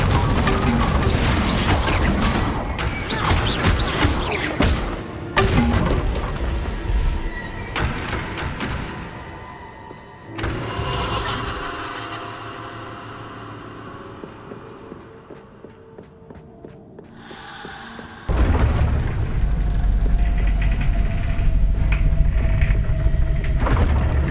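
A Confringo fire spell from Hogwarts Legacy goes off as loud crashing booms with thunder-like rumble, followed by a quieter stretch and then another dense burst of impact noise.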